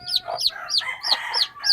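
A mother hen clucks in quick, high, repeated calls close by, with a busy chorus of bird sounds underneath and no voices.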